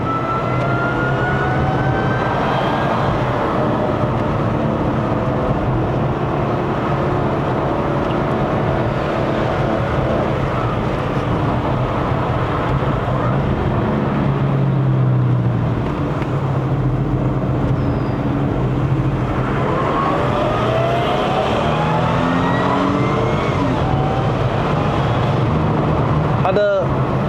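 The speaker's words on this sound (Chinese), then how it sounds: "它的机械增压根本就是覆盖了它那个 V6的声音量，" An Audi A6 C7 with a 3.0L supercharged V6 climbs a mountain road toward Genting in Malaysia, its engine note rising and falling through repeated acceleration sweeps under a steady road roar, with people talking inside the car.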